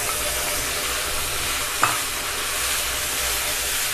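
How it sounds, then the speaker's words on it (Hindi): Ground masala paste fried and stirred with browned onions in a pan for a dhaba-style potato, cauliflower and pea curry makes a dense, even sizzle with one sharp utensil knock midway. "अब इसमें हम जो मसाला पीसे थे वो डाल देंगे"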